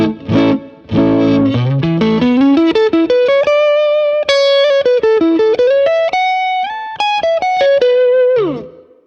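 Electric guitar played through a pedalboard with room reverb, a steady run of sustained distorted notes and bends with a soft ambient tail, played alone.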